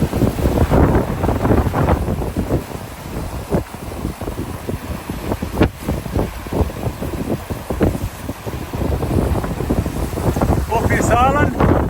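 A sailboat under a reefed main runs at around 11 to 12 knots, with loud, constant wind buffeting the microphone and water rushing past the hull, steady throughout.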